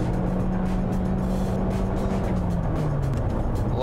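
A Toyota Corolla Cross crossover in power mode at full throttle gives a steady, loud engine drone with a low harmonic hum that slowly shifts pitch, wrapped in continuous road and wind noise. No voices are heard.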